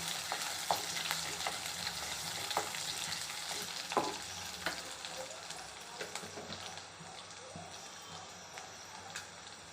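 Ingredients for chicken kulambu sauté in a pan, a steady soft sizzle with scattered stirring clicks and scrapes, close and fairly quiet with no talk.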